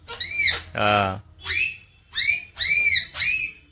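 A baby at a first birthday makes high, breathy whistling squeals in short repeated bursts, with one lower laughing vocal burst in between, close and clear.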